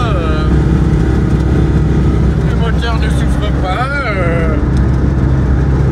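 A 1978 Citroën 2CV6 engine drones steadily while cruising at about 80 km/h on an ordinary main road. The engine is loud and continuous, with a close, rumbling character, and voices talk over it throughout.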